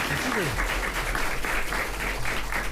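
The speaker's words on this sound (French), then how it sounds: "Vous pouvez l'applaudir s'il vous plaît, il maîtrise parfaitement." Audience clapping steadily for a young speaker at a robotics event, a continuous even patter of applause at moderate level, with a voice briefly speaking over it.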